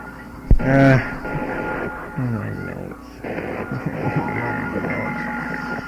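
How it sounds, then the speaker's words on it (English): Broadcast medical tones from a periodic transmission, steady electronic pitches and a brief sharp burst near the start, with a continuous buzzing bed and a voice talking through much of it. "You're listening to the standard variety of medical tones"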